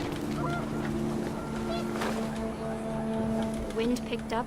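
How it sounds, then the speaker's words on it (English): Panicked geese honk in the video game What Remains of Edith Finch, with several short, overlapping calls over windy background noise and other game sounds, loudest near the end. "The wind picked up and panicked geese appeared and quickly went."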